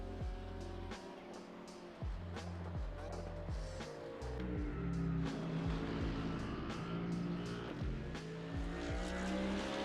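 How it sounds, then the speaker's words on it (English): Touring race car engine in the iRacing sim during a qualifying session, a steady loud drone rising and falling through gear changes with sharp shift cuts, continuous over the whole stretch. "I'm listening to the engine."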